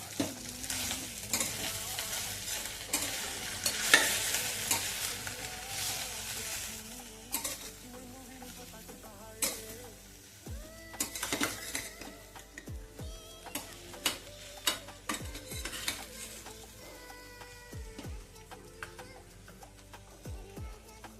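Okra frying with red chilli powder, a soft sizzle under repeated spatula scrapes and clinks against the pan, with stirring strokes coming in irregular bursts.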